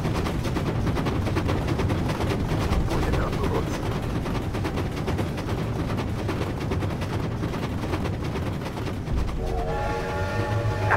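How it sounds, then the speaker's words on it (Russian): A train rolls past in the Command and Conquer Generals video game with a dense, steady rumble and rattle. A horn-like tone rises near the end, with no talking. "Едет поезд"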